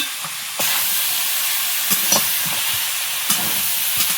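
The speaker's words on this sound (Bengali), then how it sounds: "এবার আরও একটু নেড়ে করে ভাজবো এই সময় চিংড়িটা দিয়ে দেবো" Prawns and crab stir-fried in a pan, a sizzle that jumps louder partway in, with intermittent scraping stirs and clanks over a steady frying hiss, close by.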